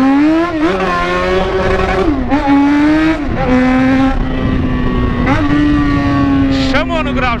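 A motorcycle engine revs hard during a wheelie, loud and close, its pitch climbing, holding and dipping through several throttle swells over about seven seconds.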